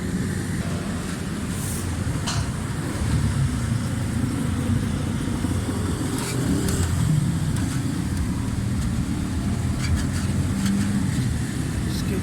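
A car engine with a freshly fitted carburetor choke runs steadily at idle, a continuous low rumble with faint clicks and rattles from the workshop around it.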